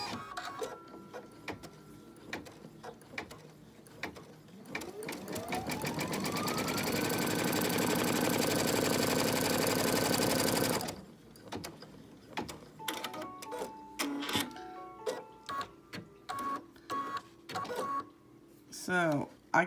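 A home embroidery machine runs steadily while stitching an in-the-hoop fabric stocking, its buzzing, rapid needle hum loud and continuous for several seconds before it stops, followed by scattered clicks and handling noises.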